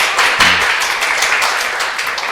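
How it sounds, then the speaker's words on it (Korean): Hands clapping in a classroom, a dense burst of many applauding together, steady and fairly loud throughout with a brief low voice near the start. "자, 박수 한번 칩시다."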